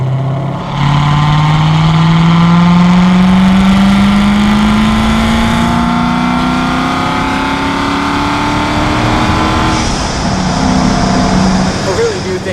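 Hennessey HP 1000 C7 Corvette Z06 on a damp track, its engine pulling hard in a long rising rev that climbs steadily for several seconds before the throttle lifts and the note falls away near the end.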